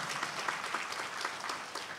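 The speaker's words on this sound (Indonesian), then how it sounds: "Jangan tepuk tangan karena ini bukan kampanye." A church congregation applauding during a sermon, with dense, steady clapping from many hands in a large room, moderately distant and continuing throughout without speech.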